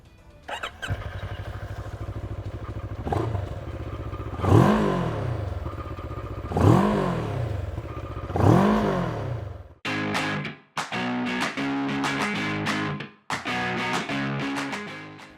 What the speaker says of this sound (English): Now let's listen to the exhaust note of the Scrambler, which is very similar to its street-focused version.